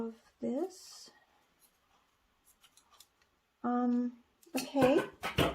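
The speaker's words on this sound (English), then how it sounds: "I'm gonna chop here and cut out the rest of this." Scissors snip through a t-shirt in a few short, quiet cuts, with a pause between them. A person talks before and after the cutting.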